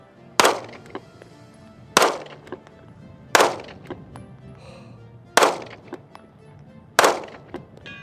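Five sharp rifle shots crack out one at a time, each a loud, close blast with a short echoing decay, spaced about one to two seconds apart while firing at a 150-yard target.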